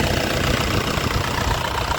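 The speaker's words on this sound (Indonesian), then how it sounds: "Jadi suaranya masih renyah, khas Panther" A 2001 Isuzu Panther LS with a manual gearbox idles up close, its engine giving a steady, slightly knocking, crisp diesel-like rumble that stays even throughout, with no talking.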